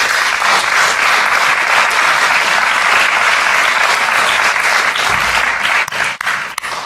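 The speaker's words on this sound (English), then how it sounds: "I think that deserves applause" Conference audience at a tech event bursts into loud, sustained applause, a thick continuous roar of many hands clapping for several seconds before tapering off at the end.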